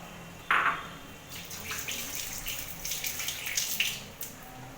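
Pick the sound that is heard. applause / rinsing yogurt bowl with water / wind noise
rinsing yogurt bowl with water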